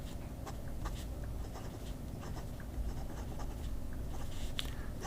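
An Aurora fountain pen with a medium 14-karat nib writes on Tomoe River paper in Mont Blanc Irish Green ink, giving a soft, continuous close scratching with small strokes and lifts, alone and quiet.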